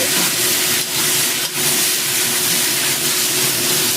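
Loud, steady hiss of wine sizzling in a hot wok with squid, broadband and continuous with a faint tonal hum underneath, no talking.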